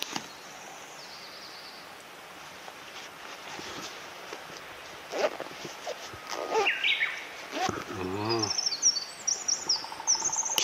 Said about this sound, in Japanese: 鳥が鳴いてますね。